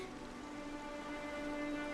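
Strange ink rain falls in the Infinity Nikki video game, a steady, even rain-like hiss that carries on for the whole stretch, with soft sustained tones layered underneath.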